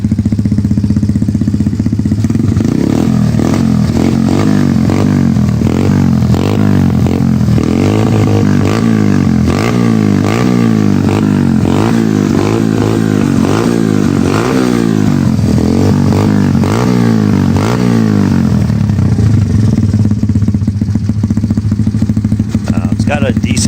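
A Pitster Pro MX110 pit bike engine cranks and catches, running with a loud, uneven barking throb before settling into a steady idle, with a voice speaking over the engine noise.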